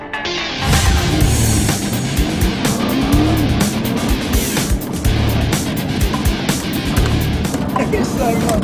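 A Nissan GT-R accelerates hard around a track, its engine roaring loud and steady with a rising pitch and possible tyre squeal. Voices talk over it.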